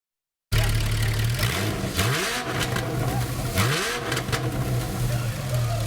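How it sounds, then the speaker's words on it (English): Vintage race car engines at a Festival of Speed tune-up event in Spokane rev loudly and repeatedly, rising and falling in pitch with a steady rumble underneath. "today these vintage cars were able to get tuned up at the kickoff event"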